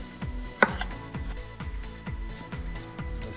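A knife cuts through an avocado for avocado salsa with repeated soft, low strokes on a cutting board in a steady rhythm, and a single sharper knock early on.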